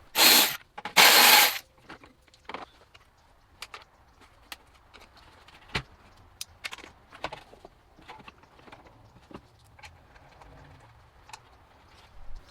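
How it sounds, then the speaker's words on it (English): Screws being removed from the coolant expansion tank of a BMW E92 335i, with two loud bursts of tool noise at the start followed by scattered faint clicks, taps and small metallic handling sounds, close, with no talking. "let's remove the 10mm screws all the way around the coolant expansion tank"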